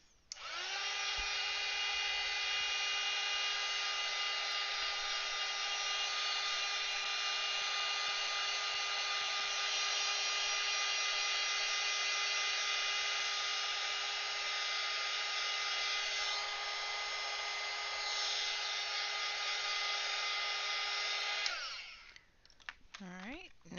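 A hair dryer runs steadily to dry a freshly painted artwork, a loud continuous whine with a steady hum, cutting off near the end with a few faint clicks.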